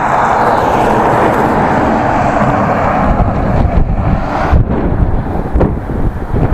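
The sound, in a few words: wind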